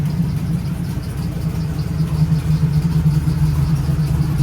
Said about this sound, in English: I got an exhaust leak on this side that I'm going to fix. It's leaking from the header.